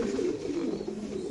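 Racer pigeons at a pigeon farm give a soft, steady throaty coo, close and continuous for a brief moment with no voices.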